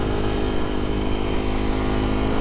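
Fantic Caballero Scrambler motorcycle ridden through a village, a close steady engine drone with a buzzy, uneven exhaust note that swells slightly a few times, continuous with no talking.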